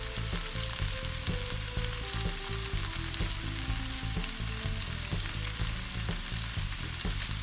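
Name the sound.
food frying in a pan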